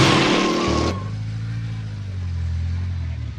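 A sound-designed car sequence: a bright, loud tire squeal cuts off abruptly and gives way to a steady low engine idle that hums on under it.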